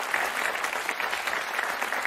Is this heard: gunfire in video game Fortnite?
no